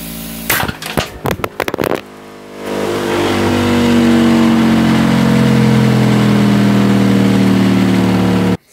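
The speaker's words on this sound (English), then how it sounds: "the rotor spun so fast and I hadn't fixed the magnets in" An Adams motor's rotor, its magnets not secured, winds up to high speed with a steady rising hum after a burst of sharp clattering knocks, then cuts off abruptly.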